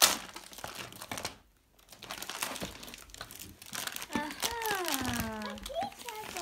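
Paper crinkles and crumples as a Christmas present is opened, with rustling through the first seconds and a short pause, then children's voices chatter excitedly over more rustling.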